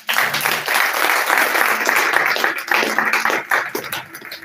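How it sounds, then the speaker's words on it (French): Congregation clapping and applauding together in a church service, a dense, steady burst of many hands lasting several seconds before tapering off. "Acclame pour le Seigneur"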